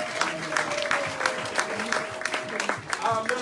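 A church congregation at a Sunday service applauds with quick, crackly claps and scattered cheering, with voices mixed into the steady clapping throughout.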